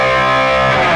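Electric guitar played through a Helix preset built by ChatGPT with distortion, delay and reverb, a single loud, thick, saturated chord ringing out for about a second.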